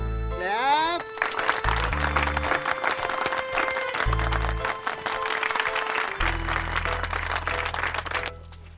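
Audience clapping bursts out in a Telugu movie scene and keeps up as a dense, steady patter for several seconds, over a sustained tonal music bed with brief rising tones at the start.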